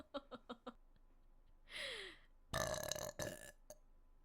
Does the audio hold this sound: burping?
yes